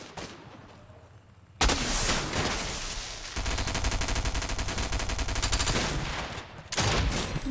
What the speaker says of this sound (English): Oh, God, there's more people shooting at me.